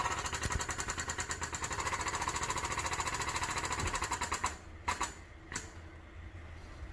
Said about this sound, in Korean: 특수 지거와 아답터, 유압 브레스 장비를 이용하여 부싱을 박아 넣고 있습니다